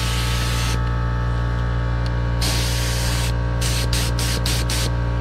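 Base coat sprayed onto car suspension parts for a Cobra Daytona build comes through as close, loud hissing bursts from a spray gun, a long pass followed by several short rhythmic blasts over a constant low hum.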